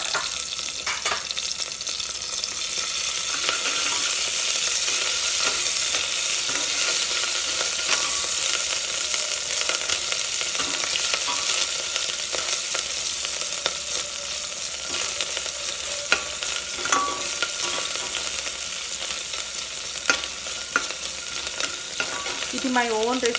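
Green chillies, onion and ginger garlic paste fry in a pan with a steady, bright sizzle, broken by occasional stirring scrapes. It is close and continuous throughout, with no talking.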